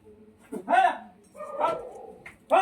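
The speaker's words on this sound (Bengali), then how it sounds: "দেখো কুকুর নতুন কোনো কুকুর নাকি" A dog barks a few times at close range, short sharp barks separated by pauses, with people talking nearby.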